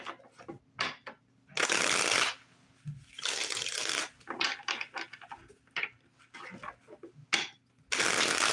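Playing cards dealt into three or four piles during a card reading, heard as close, soft riffles and slaps in irregular bursts with short gaps and no speech.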